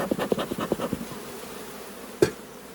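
Honeybees at a hive in autumn, during an inspection around the queen excluder, give a series of short, close buzzing bursts in quick succession, then a pause and one louder final buzz.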